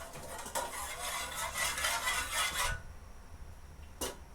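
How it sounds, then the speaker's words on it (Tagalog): A spoon scrapes and swirls coconut milk around a pot for a couple of seconds, then stops, followed by a single light clink. "ating mahalo-haluin muna."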